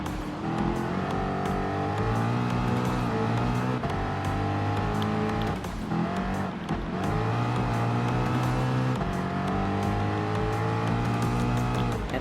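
Engine of a Ford Mustang Gr.B rally car in Gran Turismo Sport, loud and continuous, with an off-road muscle-car roar that rises and falls through the gears and no pauses.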